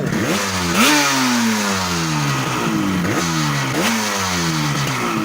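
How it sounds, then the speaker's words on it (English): The engine of a restored motorcycle revs up repeatedly in sharp, rising blips, loud and near, with each surge falling back before the next one climbs. "The bike starts, it picks up."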